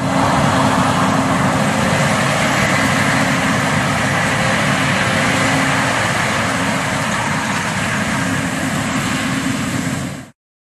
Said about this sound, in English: Combine harvester.